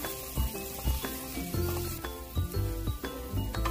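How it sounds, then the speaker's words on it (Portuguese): Seasoning base of garlic and onion sautéing with rice and green beans in a pan for baião de dois, a steady sizzle broken by repeated clinks of a spoon stirring against the pan. "Então já vai praticamente tudo aqui nesse refogado, só pra gente misturar o arroz com o feijão."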